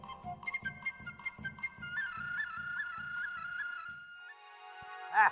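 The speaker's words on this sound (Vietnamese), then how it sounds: "sao giữa rừng lại có tiếng sáo thổi?" A flute plays a wavering, sustained melody in a forest setting, its steady tone rising and bending over soft rhythmic background pulses before fading into a quiet, brief high whistle at the end.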